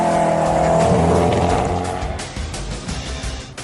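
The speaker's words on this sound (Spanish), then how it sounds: "Está claro que este coche corre." A Koenigsegg Agera supercar tears along at speed, its engine roaring loud and close before the sound thins and fades, with a rough rumble as it pulls away.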